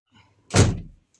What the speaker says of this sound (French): Ah oui, on a un problème avec cette porte. Elle se ferme jamais très bien.